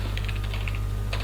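Rapid clicking keystrokes on a computer keyboard, a quick close cluster of taps followed by a brief pause and one more short burst over a faint steady hum.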